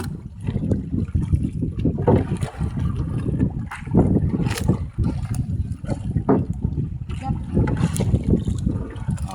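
Strong wind buffets the microphone while fishing from a small boat on open water, a steady rough roar with gusty bursts running throughout, no talk.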